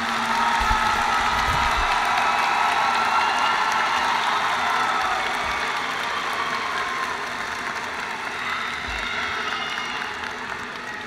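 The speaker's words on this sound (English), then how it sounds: "Let's applaud the graduates in the College of Professional Studies" Applause from the audience at a fall university commencement ceremony for College of Professional Studies graduates, a broad, moderately loud wash of clapping that gradually thins over several seconds, with some low rumbling underneath.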